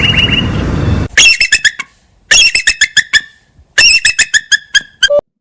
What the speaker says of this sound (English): I didn't know that was the sound of bald eagle.